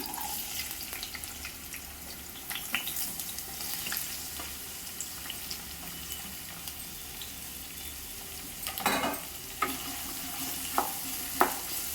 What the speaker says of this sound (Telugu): ఆయిల్ గట్టి బాగా హీట్గా ఉన్నాయి ఇప్పుడు ఇదే టైంలో ఆనియన్స్ను కరివేపాకు వేస్తున్నాను